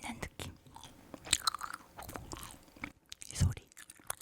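Frozen jelly candy being chewed up close, soft crunches and wet bites in an irregular rhythm, quiet and intimate, with a brief louder crunch near the end.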